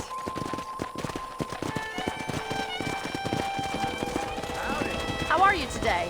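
Horse hooves clip-clop in a Red Dead Redemption open-world western video game, a quick uneven clatter under game music, with a horse snort near the end and people talking over it.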